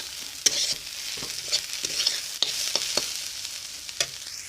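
Cumin and garam masala frying in a pan with a low continuous sizzle, punctuated by sharp clicks and scrapes of a spoon stirring, close and quiet with no voices.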